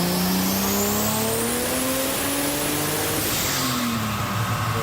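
A naturally aspirated Jeep Cherokee, formerly turbocharged, revs hard on a chassis dyno, its engine note climbing steadily through the gears and then dropping off, loud and continuous with no talking.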